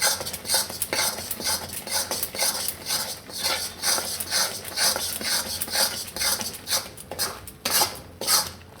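A spoon stirs adadiya lachko, a Gujarati sweet mixture, with milk in a pan, making continuous rhythmic scraping and rasping strokes against the pan bottom, close and fairly loud, with no voices.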